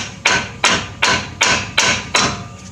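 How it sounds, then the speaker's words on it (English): Hammer striking the bottom of a tie rod end shaft on a car during tie rod end replacement, six loud, close metallic blows in a steady rhythm about every 0.4 seconds. "Sometimes you can get lucky and hit the bottom of that shaft with a hammer,"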